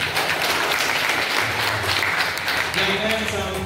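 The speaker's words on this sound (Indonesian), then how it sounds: "Oke, tepuk tangan." An audience at a school guest-teacher session claps in a lively, sustained round of applause, with a voice speaking over it toward the end.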